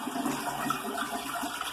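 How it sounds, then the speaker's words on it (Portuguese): A toilet flushing after a baking soda cleaning tablet has been left in the bowl, a continuous close rush and swirl of water at steady loudness, heard alone without talk. "E então, você dá descarga."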